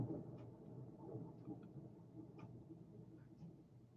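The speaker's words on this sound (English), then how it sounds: "That's a big ass thunder." Thunder from a passing storm rumbles low and steady through the whole stretch, a broad continuous roll with faint sharper crackles near the middle, heard alone at moderate level.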